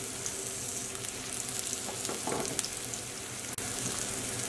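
Zucchini fritters fry in a pan over medium heat, giving a steady close crackling sizzle with small pops and a brief louder spatter near the middle, no voices.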